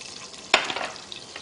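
Sambar onions, about a hundred grams, dropped into a hot pan for drumstick sambar, giving a sharp sizzle burst that fades into a steady light frying crackle, close and fairly quiet.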